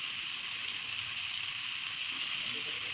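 Cabbage sizzles in a wok with potato, tomato and chilli, a steady bright hiss of frying oil that stays even and close throughout with no voices.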